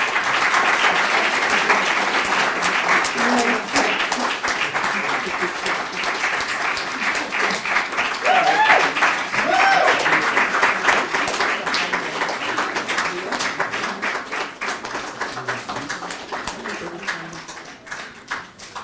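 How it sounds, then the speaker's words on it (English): Sustained crowd applause at a conference gathering, honouring the planning team; dense continuous clapping runs loud and steady throughout, fading slightly at the end, with some voices mixed in. "come to the front for us to give a big round of applause for all that they have done"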